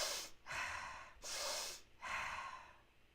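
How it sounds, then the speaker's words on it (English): Three slow, audible nasal inhales with a soft airy snort to each breath, spaced evenly about a second apart during a Wim Hof style breathwork session, close and alone with no talk. "So if you're breathing in through your nose,"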